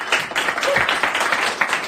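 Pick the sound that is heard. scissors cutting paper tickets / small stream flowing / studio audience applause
studio audience applause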